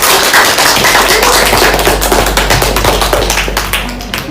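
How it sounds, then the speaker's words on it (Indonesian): An audience at a UKIN 2023 event applauds. The clapping is loud, dense and sustained for a few seconds, then gradually thins and fades. "Ya, berikan aplaus yang meriah."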